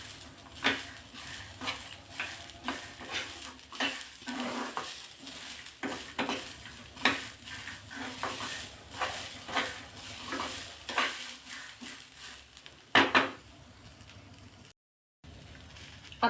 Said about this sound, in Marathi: धुवून घेतले आहे मी आणि थोडेसे भाजायचे आहेत आपल्याला